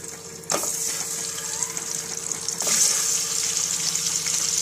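Eggs fry in hot oil in a pan, giving a steady close sizzle that jumps louder twice as more goes in, with a faint hum underneath.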